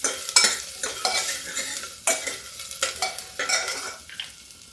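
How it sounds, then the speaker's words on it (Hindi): Garlic, ginger and green chili sizzle as they brown in a pan while being stirred, with repeated scraping strokes of a spoon over a steady frying hiss, close up and without speech. "इसे डालते लहसुन, अदरक और थोड़ा हरा मिर्चा। इसको थोड़ा सा ब्राउन कर लेते हैं।"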